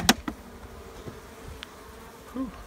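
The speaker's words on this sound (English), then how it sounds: "Whew, that's a lot of bees." Honey bees hum around an opened backyard hive during an inspection, a low steady buzz with a sharp tap at the start and occasional faint clicks.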